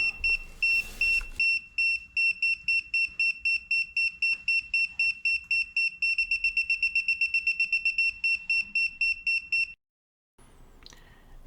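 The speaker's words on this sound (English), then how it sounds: "you'll see here it's going to start beeping and the light will turn red on it, indicating that there is a leak here" A handheld gas leak detector sniffer sounds a loud, rapid series of sharp electronic beeps near a wall heater's gas pipes. The pulses quicken to a faster pace before stopping abruptly, followed by a faint rustle.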